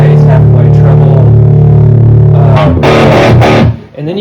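An electric guitar plays through a 1979 Marshall metal-panel Plexi amp and a distortion pedal, a loud sustained distorted chord that gives way to a burst of gritty, choppy strums before the sound briefly cuts out near the end.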